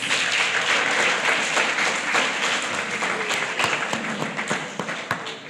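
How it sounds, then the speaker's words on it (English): A crowd of learners and families in a school hall applauds at a Grade 7 primary prize giving, a thick round of clapping that gradually thins into scattered individual claps by the close. "Let's give them a last round of applause"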